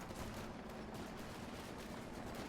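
An MG42 machine gun in Company of Heroes 2 fires a steady stream of rapid shots, faint and at a distance, in a battle scene with no voices.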